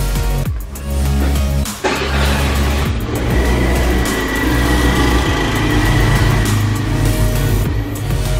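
A car fitted with a 5Zigen racing exhaust revs loudly and close by. The engine note surges and holds at a steady throaty roar, with a brief dip before climbing again.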